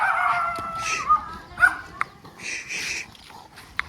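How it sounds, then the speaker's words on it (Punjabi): A dog barks and yips in short, uneven bursts, mixed with whimpering, fairly close. "ਉਧਰ ਹੀ ਡਰਦਾ ਹੀ ਭੌਂਕੀ ਜਾਂਦਾ"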